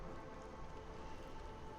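A downpour in the video game Against the Storm, a steady, dense hiss of heavy rain on surfaces without a break.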